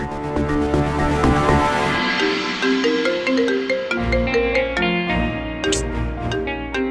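A melodic electronic ringtone plays on and on, its bright notes stepping up and down at a steady, fairly loud level with no one talking.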